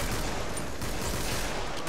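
Golden hand cannon fired in the video game Killing Floor amid a dense, continuous wash of game gunfire and explosions, loud and chaotic throughout the short burst.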